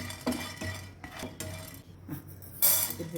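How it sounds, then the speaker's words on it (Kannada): Dal roasts in a pan over a low flame, a spoon scraping and clinking against the metal in a few short strokes with faint sizzling between them, close and quiet. "ಫಸ್ಟು ಬೇಳೆ ಹಾಕ್ತಾ ಇದ್ದೀನಿ ಆದಷ್ಟು ಲೋ ಫ್ಲೇಮಲ್ಲಿ ಹುರ್ಕೊಳ್ತಾ ಇದ್ದೀನಿ"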